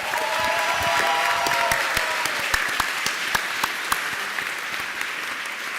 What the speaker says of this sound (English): One more applause for LG Sarajevo.